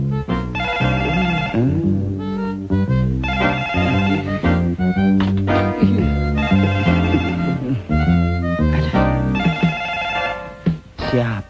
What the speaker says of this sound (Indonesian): Siapa sih telepon masih malam begini?